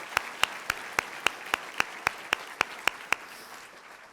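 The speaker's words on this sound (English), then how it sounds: "So big round of applause for our CEE faculty or staff and advisors." Applause from the audience at a 2019 civil and environmental engineering graduation ceremony: a dozen sharp, evenly spaced claps ring out over a faint crowd wash, then trail off into quiet.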